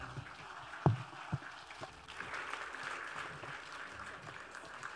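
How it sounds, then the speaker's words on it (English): Audience applause at an HR award ceremony, faint clapping that begins sparse with a couple of thumps, then swells into a steady distant patter of many hands. "I think we should keep clapping"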